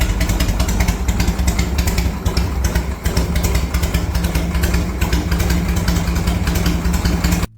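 A mechanically improved old-school Harley-Davidson motorcycle runs with a loud, steady, close engine rumble and a rapid, loping beat throughout, with no talk over it.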